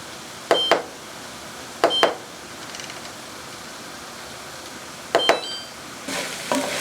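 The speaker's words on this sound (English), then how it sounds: "Alright, set my timer here." A kitchen timer being set while a skillet supper cooks gives several short, sharp double beeps spaced a few seconds apart, with a faint sizzle underneath.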